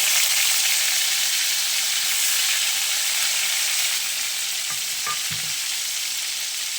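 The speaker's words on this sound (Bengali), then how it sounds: "ফোড়নে 5টা এলাচ, কটা দারচিনি, 2 চামচ আদা বাটা দেব" Cardamom, cinnamon and ginger paste frying in tempering oil, a loud continuous hissing sizzle close by, with a few faint utensil knocks near the end and no talk.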